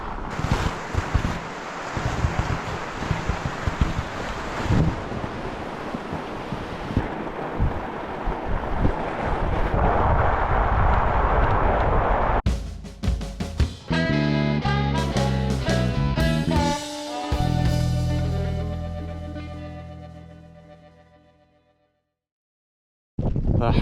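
Strong wind buffets the microphone in loud gusty rumbles for several seconds in the misty Highlands with spitting rain, then gives way to other sounds before fading to silence.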